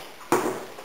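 A single bright electronic tone, a microwave oven finishing, starts suddenly and rings on briefly in a quiet room, fading slowly with nothing else around it.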